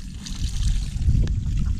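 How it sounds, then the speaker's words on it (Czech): Running tap water streaming into a pot of cold water holding kabanos sausages, a steady close splashing and gurgling trickle that continues without a break. "máme i proud vody, aby nám se to pěkně ochlazovalo"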